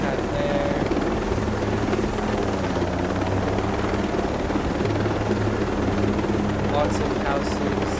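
A helicopter flies in the game Ghost Recon Breakpoint, making a steady, loud rotor drone that lasts throughout a low pass over an area with a helipad and houses, with a voice talking over it.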